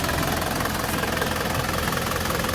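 A 2012 Isuzu Panther LS Turbo diesel with a manual gearbox idles with the engine bay open, giving a steady, loud, close rumble with a fast, even knocking throb and no break for the whole stretch.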